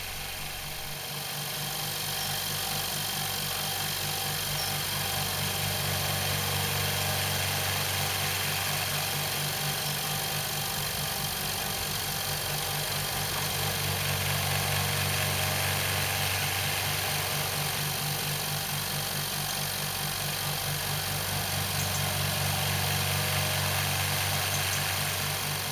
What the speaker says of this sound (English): Leave the pump running until it gets up to full pressure